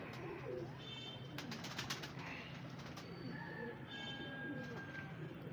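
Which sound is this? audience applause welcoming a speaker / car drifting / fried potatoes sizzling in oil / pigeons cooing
pigeons cooing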